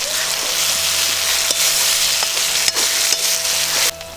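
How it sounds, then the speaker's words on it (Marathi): Chopped onion and tomato fry in hot oil for a Kolhapuri tambda rassa, giving a steady broadband sizzle with a few faint utensil taps, close and continuous with no speech. "कांदा मस्तपैकी असं भाजून घ्यायचा करपूस थोडासा टोमॅटो तेला पण असं भाजून घ्यायचं तेलात"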